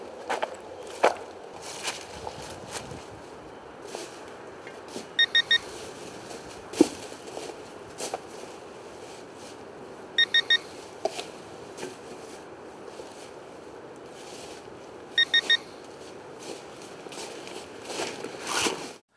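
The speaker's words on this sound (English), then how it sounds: "the Pro Pointer AT will begin emitting warning chirps after 5 minutes of being on" A Garrett Pro Pointer AT pinpointer gives three short bursts of high warning chirps spaced about five seconds apart, each a quick cluster of beeps, faint over a steady outdoor background with scattered footsteps and rustling.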